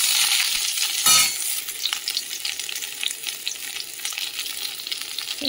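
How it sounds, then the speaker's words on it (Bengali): Cauliflower sizzles and spits steadily in hot oil in a wok, a dense crackling hiss with one sharp clatter early on, no voices over it. "তেলটা গরম হয়ে গেছে, যে ফুলকপিটা তেলের মধ্যে দিয়ে দিলাম"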